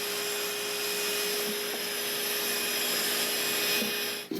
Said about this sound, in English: So I'm just going to start by vacuuming out the inside of the guitar.